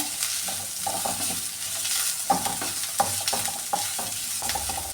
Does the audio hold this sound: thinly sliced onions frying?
yes